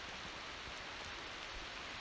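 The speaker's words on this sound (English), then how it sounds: "It is decidedly raining now. It is not a sprinkle anymore." Heavy rain falls steadily at a riverside campsite, a dense, even hiss of drops with no break across the short stretch, fairly quiet overall and with no voices.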